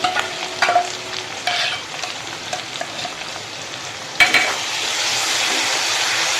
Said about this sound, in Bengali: হালকা একটু ফ্রাই করে নেব যেহেতু কাঁচা বাদাম কাঁচা সর্ষ ছিল তার জন্য কাঁচা লঙ্কা তার জন্য একটু ফ্রাই করে নিচ্ছি